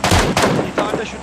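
Gunfire in PUBG Mobile, a battle royale shooter, comes as a loud, close burst of rapid shots lasting about a second.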